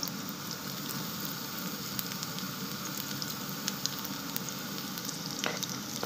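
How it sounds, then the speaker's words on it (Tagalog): Garlic and onions sauté in a pan for sotanghon guisado, giving a steady, close, even sizzle with scattered small pops and crackles throughout, and no voices. "Magigisa tayo ng bawang at saka sibuyas."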